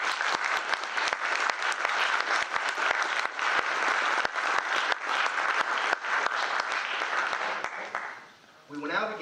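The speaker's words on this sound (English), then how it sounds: "is a feat that deserves a round of applause" Sustained audience applause fills a military commissioning ceremony for an Air Force ROTC class, dense clapping that runs steadily for several seconds before tapering off, with a voice starting to speak at the very end.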